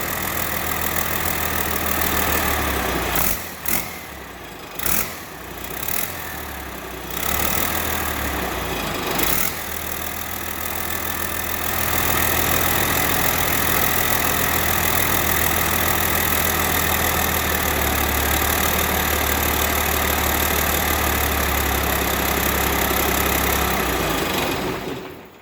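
A Cummins 6BT diesel swapped into an M35A2 truck runs at close range, stuttering and dipping several times early on, then settling into a steady, loud rumbling idle that holds to the end.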